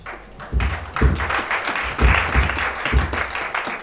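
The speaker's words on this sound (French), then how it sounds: "Acclamons Shaddai." A church conference audience applauds in loose rhythmic bursts with thumping beats, loud and close, under a faint voice.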